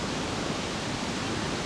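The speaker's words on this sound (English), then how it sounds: "The sound of the waterfall is so strong." Largest waterfall in Sweden heard from a lower viewpoint, a dense, constant broadband roar that is loud and close with no voices.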